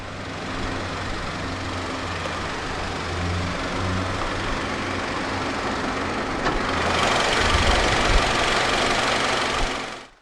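A 2016 BMW X1 sDrive20i Sport Line with a 2-litre turbocharged inline-4 running, a loud steady engine drone that rises to a fuller roar partway through before cutting off abruptly, no speech.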